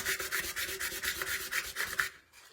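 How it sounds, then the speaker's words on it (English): Wet sandpaper rubs back and forth on a Dollar Tree candle holder in quick, even rasping strokes, close and steady for about two seconds before stopping. "Then I take my sandpaper. But I don't know, it's like wet sand."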